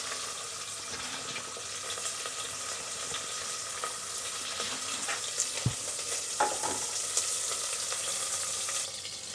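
Onions frying in a pan for capsicum rice, a quiet steady sizzle with occasional soft stirring scrapes and a couple of light knocks, fairly faint and continuous with no speech.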